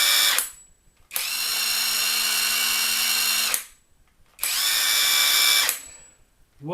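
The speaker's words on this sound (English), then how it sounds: "What a drill. It's even got its own fast stop" A RUYIKA 21V 460Nm cordless impact wrench whirs at high speed in two loud, steady bursts of about two and a half and one and a half seconds, each ending in an abrupt fast stop, with no talk.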